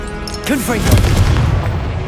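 A Confringo fire spell blast in the Hogwarts Legacy video game lands as a loud booming explosion with a rumbling tail, following a shouted spell voice.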